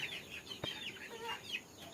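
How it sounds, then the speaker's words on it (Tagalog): Chickens cluck softly and sporadically at a short distance, with faint chirping calls scattered over a quiet, steady background. "Tapos ang daming manok dito sa ilalim nila."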